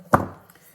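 A knife slices once through a block of unsalted butter, a single sharp close cut that fades quickly with no talking.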